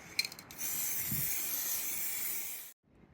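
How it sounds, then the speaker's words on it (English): Raven Super Color Shift aerosol paint sprays in one steady, close hiss lasting a couple of seconds after a short sputtering start, then cuts off abruptly into near quiet. "This is Raven Super Color Shift, and I'm really curious to see how this is going to look."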